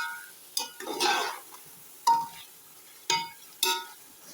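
A ladle stirs biryani with masala in a metal pot, making several distinct clinks and scrapes at irregular intervals, with soft shuffling between them, close by and fairly quiet.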